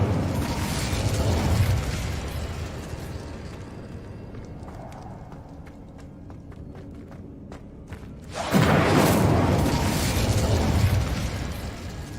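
Incendio fire spell cast in Hogwarts Legacy, a loud whooshing fiery burst that fades into quieter crackles and clicks, then a second strong roaring blast near the end, with no talk.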